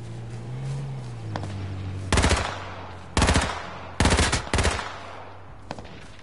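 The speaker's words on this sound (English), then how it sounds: "there's shooting happening over here" Video game gunfire: several loud, sharp automatic bursts from nearby, each a short rapid string of shots, separated by brief gaps over a low steady background hum.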